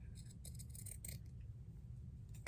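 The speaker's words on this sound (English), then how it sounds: "Just cut across that and continue to cut the neck out." Scissors snip through the cotton fabric of a T-shirt, cutting out the crew neckline close to the stitching; soft, close, quiet crisp cutting strokes with no talking.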